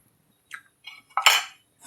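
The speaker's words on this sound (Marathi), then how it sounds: "भांडी घासून आणावं." Pots and dishes clink and scrape in a few brief, close bursts during washing, with quiet gaps between them.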